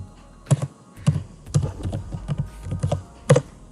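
A command is typed on a Windows computer keyboard, a steady run of distinct close keystrokes with one louder tap near the end, heard alone with no speech.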